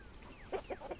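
Farm chickens in the Dinkum video game give a few short clucks, three quick bursts in the second half, fairly close and moderately loud over a soft steady background.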